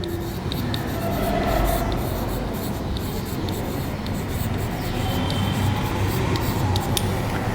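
Marker or chalk scratching across a classroom board in short continuous strokes, close and moderately loud over a faint room hum.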